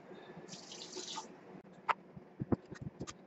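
Water pours from a tap into a chemical mixture of calcium sulfate during a sodium ethyl sulfate synthesis, a brief hissing stream followed by clinks and drips close by.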